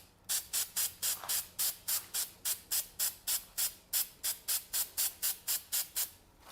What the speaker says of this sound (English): Just a very light spray.